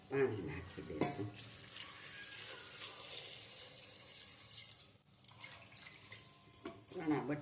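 Water pours steadily into a cooking pot holding soaked chickpeas for a Gujarati vegetable and pulse bhel, a continuous splashing stream running for several seconds with a brief pause near the end.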